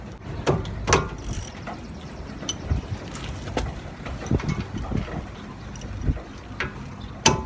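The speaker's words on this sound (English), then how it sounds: "This is where you'll need your 14 millimeter socket or wrench." Clicks and ratcheting from a 14 mm socket on a ratchet breaking loose the brake caliper bolts of a 2011 Nissan Pathfinder during a brake pad job, heard as irregular near taps and short clicking bursts with no talk.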